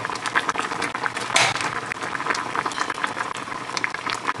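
Pineapple peel boiling in a pot of water, a steady dense bubbling and simmering that stays close and fairly loud throughout, with no voices.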